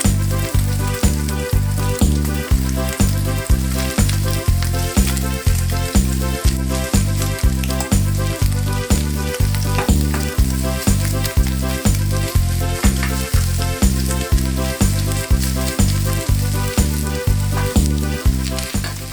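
Bacon and grated potato rösti fry in a pan, giving a loud, continuous sizzle with a steady pulsing texture and no voices.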